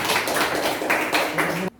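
Applause for the second group at a teaching performance assessment, heard as a dense, steady burst of clapping from a room of people that cuts off abruptly.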